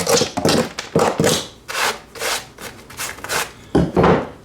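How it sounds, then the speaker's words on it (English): Wood pried apart with a pry bar after a reciprocating-saw cut, producing a series of close, loud creaking scrapes and rubbing bursts in uneven rhythm, with short pauses between efforts. "Once that's cut through, use my pry bar."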